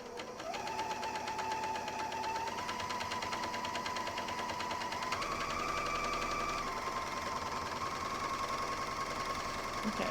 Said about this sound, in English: I'm just going to serge along here